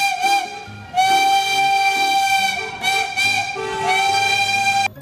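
A toy train sounds its steam whistle: loud, sustained whistle blasts broken by short gaps, with no talking over them.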